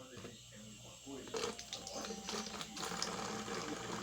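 Potato yeast starter pours into a bottle with a soft, continuous trickling gurgle, close and fairly quiet, while someone talks over it.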